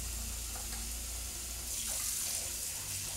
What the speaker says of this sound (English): Let's get a little bit more water in here